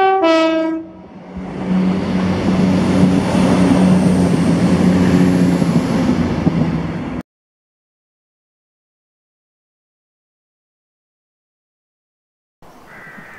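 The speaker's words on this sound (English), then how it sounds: "1T98, the 1010 ScotRail service to Glasgow Queen Street from Inverness." A ScotRail passenger train, the 10:10 Inverness to Glasgow Queen Street service, sounds a short, loud horn at Blair Atholl, then rumbles past with a heavy, close roar before cutting to silence.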